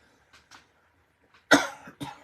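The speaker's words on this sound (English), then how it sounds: "Clearing my throat, blowing my nose." A couple of faint throat-clearing sounds, followed by two loud, close coughs in quick succession.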